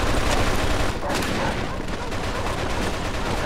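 Rapid machine gun fire in the video game Mafia 2 hammers on in a dense, loud, continuous burst of shots that fills the whole moment.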